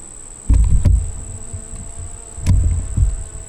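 Honeybees buzz close by at the entrance hole of a hive in South Carolina, short low buzzing bursts from bees flying in and out over a faint steady hum.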